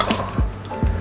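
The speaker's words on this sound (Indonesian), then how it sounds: "dan kita aduk semua" A spoon stirring soto ayam, a chicken soup garnished with lime leaves, chili, soy sauce and scallions, in a bowl, giving a few soft, close clinks against the bowl in an uneven rhythm.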